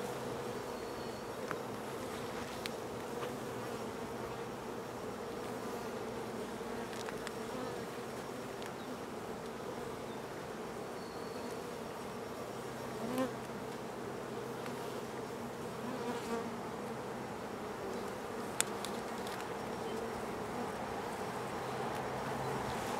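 A steady, dense buzz of many honeybees hums continuously around a hive getting ready to swarm, with faint clicks and knocks scattered through it.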